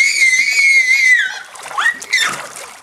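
A child lets out a long, shrill high-pitched scream while playing in a backyard pool, followed by splashing water and shorter squeals close by.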